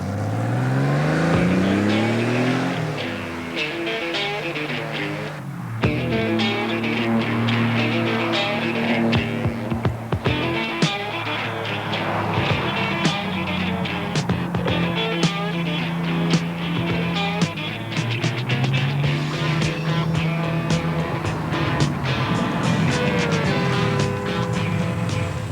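A 1980s Formula Ford race car lapping the twisty Wanneroo circuit, its engine loud and close throughout, revving up and down through gear changes with steady rising and falling pitch and brief dips between shifts.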